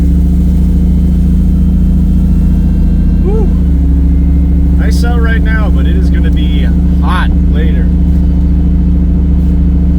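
Ford Lightning pickup fitted with a new exhaust, heard from inside the cab as a steady low engine drone that rises briefly under throttle, with someone talking over it.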